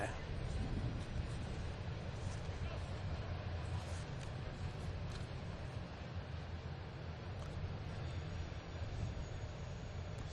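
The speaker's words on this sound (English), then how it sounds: "The 113 train rolling by." A train rolls past close to a baseball field during a game, a steady broadband rumble holding through the whole stretch with a commentator talking over it.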